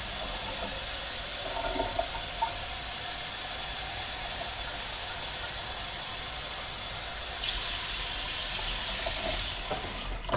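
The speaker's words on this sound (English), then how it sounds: "Okay, we're going to add warm water." Steady running water pours into a pot from a tap, a continuous broad hiss that shifts slightly near the end before easing off.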